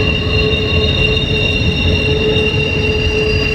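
A train rumbles past near a brushy bass-fishing spot, steady and loud, with wheels squealing in sustained high tones over the continuous low roar throughout.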